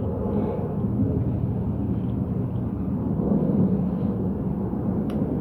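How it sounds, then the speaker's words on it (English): A helicopter passes overhead outdoors, a steady low rumbling drone that stays constant and fairly loud throughout with no talk. "Helicopter going over."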